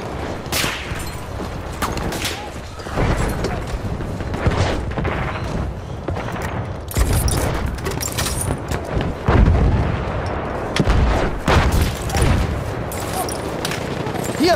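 Rapid machine-gun fire from a Lewis Gun in the World War I shooter Battlefield 1, with dense bursts, thuds and distant booms of battle rolling through the mix, loud and continuous, with soldiers' voices calling out faintly beneath the clatter.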